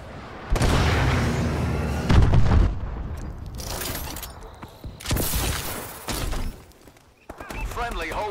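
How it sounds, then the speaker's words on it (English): Missile strikes pound a Call of Duty: Advanced Warfare match, with heavy booming blasts and rolling gunfire in a loud chaotic burst, several impacts rising and falling over a few seconds amid battle noise. "Missile strikes incoming."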